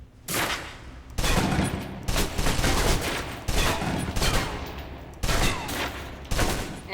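A gun empties its magazine in the video game Alpha Protocol, loud rapid bursts of automatic fire broken by short pauses, with no talk over them.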